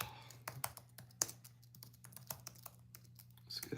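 Quick keystrokes on a computer keyboard while an email is typed, soft close clicks in short irregular runs with small gaps, over a faint low hum.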